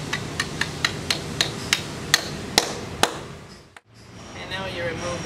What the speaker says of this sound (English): you just take your sledgehammer and drive it into the hole